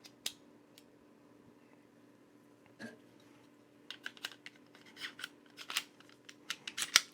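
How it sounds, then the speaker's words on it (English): Metal pistol parts of a Mossberg MC2C stainless handgun being refitted, barrel and recoil spring going back in, give quiet scattered clicks and light scrapes, with a cluster of sharper close clicks toward the end. "Now to reinstall, of course, put the barrel in, then the recoil spring"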